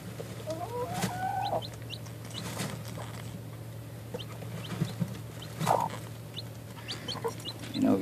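Hens and chicks in a Silkie coop cluck softly close by, with scattered high chick peeps and a few louder clucks against a steady low background hum.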